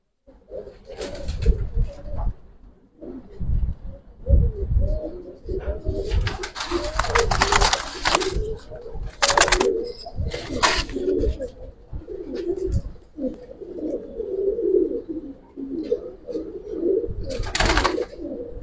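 Giribaz silver pigeons coo and stir while being handled at close range, with low throaty calls and occasional bursts of rustling, as people talk over them.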